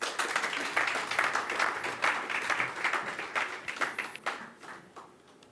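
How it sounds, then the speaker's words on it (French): An audience at a live psychic and mentalist stage show applauds steadily for a performer, a dense wash of clapping that holds for several seconds before thinning out toward the end. "On applaudit Marie."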